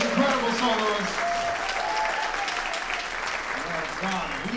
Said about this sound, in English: big round of applause for Brandon, his choir, those incredible soloists.